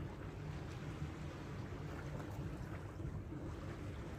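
Wind and sea waves at the seashore make a steady, low rumbling wash with continuous wind buffeting across the microphone, faint and unbroken throughout with no voices.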